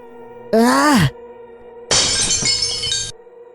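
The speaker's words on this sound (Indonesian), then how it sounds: "Suara piring dibanting Bagas." A ceramic plate is smashed and shatters, a sudden loud crash with scattering pieces lasting about a second, preceded by a drawn-out sliding tonal groan over a low background hum.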